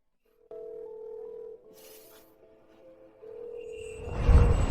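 Steady electronic tones of a telephone call ringing out, a held tone with a short higher note, then a quieter stretch and a rising noisy rush at the end, with no one talking.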